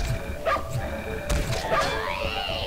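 A dog in the video game Fate barking in short yips and whimpering cries, a few scattered calls at moderate volume over a quiet game backdrop, with a person talking.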